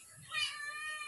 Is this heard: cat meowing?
yes